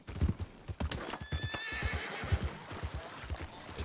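Horse hooves clip-clop steadily in Red Dead Redemption 2 Online, a cold-blooded draft horse's footfalls repeating at a walking pace, close and fairly loud, with a brief whinny partway through.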